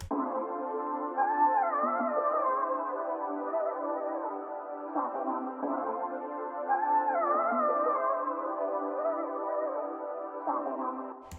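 A sustained, droning synth tone with a swirling, sweeping flanger and wash of reverb, muffled and dark with the highs rolled off, repeating its phrase twice.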